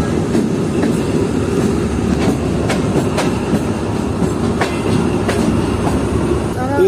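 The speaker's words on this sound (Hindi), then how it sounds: "प्लेटफॉर्म नंबर 3 से स्किप कर रही है ट्रेन कोटरी जंक्शन को।" The Tezgam train in Pakistan rolls steadily past platform number 3 toward Kotri Junction, a loud, continuous close rumble with regular wheel clicks over rail joints throughout.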